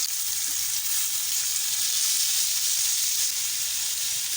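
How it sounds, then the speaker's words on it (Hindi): Beef tikka kababs sizzle steadily on a tawa in a spoonful of cooking oil over a medium flame, a continuous close, bright frying hiss with no breaks and no voices. "मैंने 1 चम्मच कुकिंग ऑयल लिया है और इसको मैंने इस तरह तवे पे फैला दिया है। अब मैं सारे कबाब इसके अंदर रख दूँगी।"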